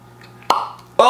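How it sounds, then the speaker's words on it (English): A cork pops out of a bottle of Nulu toasted bourbon, giving two short, close plops about half a second apart in an otherwise quiet room. "Cork pop."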